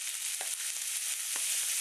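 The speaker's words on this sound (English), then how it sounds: "If it sizzles, the oil's hot." Steady broadband hiss of onion sizzling in hot oil, continuous throughout with a few faint clicks and pops.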